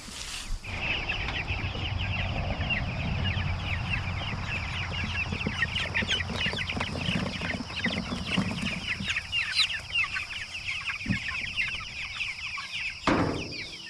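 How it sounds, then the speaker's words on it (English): A flock of meat chickens in a chicken tractor clucking steadily and continuously at close range, with overlapping calls and no talking. "we've got all the chickens in this Joe Salatin chicken tractor"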